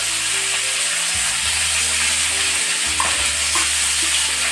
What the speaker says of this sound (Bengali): নেড়ে চেড়ে দিচ্ছি সবজিটা ঢাকা খুলে।